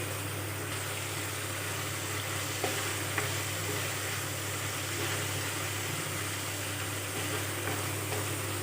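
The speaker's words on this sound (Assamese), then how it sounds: "এতিয়া মই ইয়াতে আদা নহৰুৰ পেষ্টখিনি দি দিম আৰু এইখিনি ভালকৈ ভাজি ল'ম" Ginger-garlic paste frying with onions in a pan for an Assamese duck curry with potato: a steady, dense sizzle with faint stirring scrapes and a low hum beneath. No one speaks.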